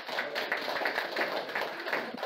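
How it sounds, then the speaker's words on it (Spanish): A small gathering at a biblical counseling session applauds, a brief patter of scattered, moderately faint claps with no talking. "Un aplauso."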